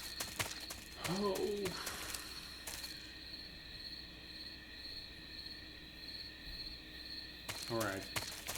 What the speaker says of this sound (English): Alright, this bird is a goner.